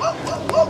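A dog gives a couple of short, close yips or barks in quick succession, close to a boat on a lake.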